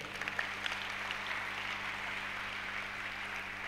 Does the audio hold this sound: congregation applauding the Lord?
yes